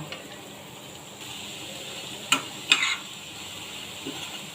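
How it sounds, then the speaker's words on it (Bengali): Red lentil fritters fry in hot oil with a faint, steady sizzle, broken by a couple of quick clinks from a utensil. "তেল গরম হয়ে গেছে, এখন বড়াগুলো ভেজে নেব"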